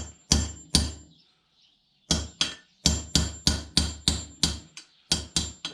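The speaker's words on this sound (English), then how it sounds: "all you need is a punch and a hammer, and choose one side of that freeze plug and tap down." Sharp metallic hammer taps striking a punch against an engine freeze plug, a few separated strikes then a steady run of about a dozen evenly spaced blows, close and loud.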